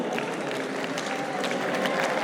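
A crowd at an ESL One Battlefield 4 esports finals claps steadily and moderately, a dense even patter with no cheering, murmured voices mixed in beneath it.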